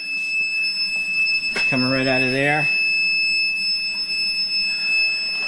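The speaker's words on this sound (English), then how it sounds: "That noise you hear, that's the whistle vent working." A whistle vent on an underground heating oil tank gives a brief, wavering, reedy whistle for about a second while oil is pumped in, amid steady background hum, with someone talking briefly.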